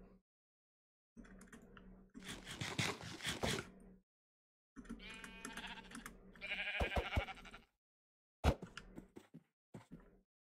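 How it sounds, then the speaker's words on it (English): Sheep in the Minecraft SevTech modpack let out short bleats in separate bursts with gaps of silence between, alongside brief clicks and thuds of game action, near and moderately loud. "Sheep, stop running, please. I need your white fleece."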